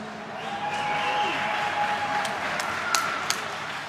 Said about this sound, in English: let's give a big round of applause for both of these gladiators